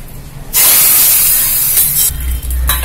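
Curry leaves and asafoetida hit hot oil for a tempering, after a short quiet lead-in, with a sudden loud, steady sizzle and spattering hiss that runs on with small crackling bursts.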